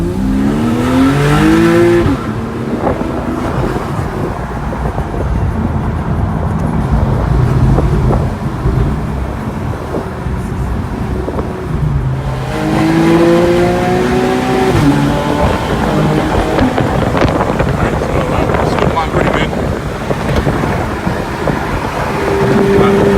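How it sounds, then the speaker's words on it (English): A 2013 Porsche 911 Carrera S Cabriolet accelerating on a freeway, engine revving up through rising gear pulls with shifts between them, loud and close amid road and wind noise. "So we're gonna go on the freeway here, and then we'll capture some acceleration here."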